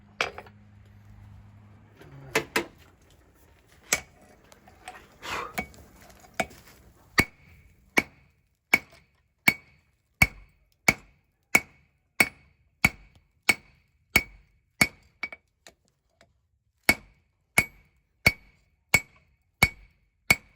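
A steady run of about twenty sharp, ringing hammer blows on thick steel, forging a tomahawk from a ball peen hammer, close and loud, falling into an even rhythm after a few scattered strikes.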